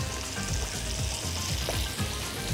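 Mastic crackling in melted butter in a pot, a continuous close sizzle with light popping throughout and no talking.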